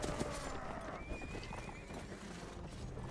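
Horse hooves clip-clopping steadily with a drawn-out neigh in a Lord of the Rings themed video game, close and loud, with faint background sounds underneath.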